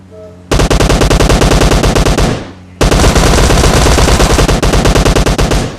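Rapid SMG bursts in a battle royale video game at Old Basin: two long, loud automatic volleys with a short gap between them, close up and dense with shots, with no talk over them.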